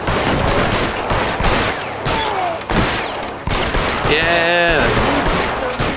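L.A. Noire gunfire cracks out in loud, rapid repeated bursts, shot after shot across the whole stretch, while someone briefly speaks over the shooting.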